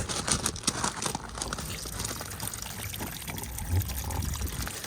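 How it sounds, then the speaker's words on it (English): Waste water from a Hobby T-550FS motorhome pours out through a pulled valve handle onto a floor grid, a steady close splashing trickle with faint crinkling and no talk. "and this will drain off your dirty water"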